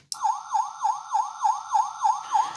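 Electronic siren from a Transformers Universe Hardhead toy, a loud close wail that rises and falls in a steady, rapid cycle about nine times without pause.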